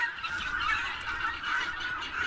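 A flock of farm geese honks continuously and fairly close, overlapping calls forming a dense, noisy chorus with no speech.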